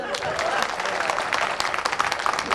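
Audience applause in a crowd, a brief dense burst of clapping that holds steady for a couple of seconds.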